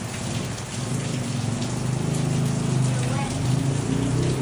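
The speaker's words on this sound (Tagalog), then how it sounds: "First heavy rain in Hanay Hanay." Heavy rain pouring down during the first downpour of the season in Hanay Hanay in the Philippines, a dense, steady hiss that goes on throughout at close range, with voices faintly under it.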